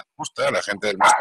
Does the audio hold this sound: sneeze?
no